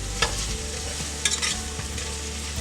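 Tomatoes being stirred into a sizzling pan of vegetable biryani, a steady close frying hiss with a few sharp spoon scrapes and clinks against the pot.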